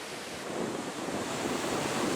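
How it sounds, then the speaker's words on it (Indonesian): Waves breaking on Telengria beach in Pacitan, East Java, steady surf with a continuous wash of broken water and some wind noise on the microphone, no voices. "Di pantai ini memiliki deburan ombak yang tak terlalu besar seperti di lukisan SBY"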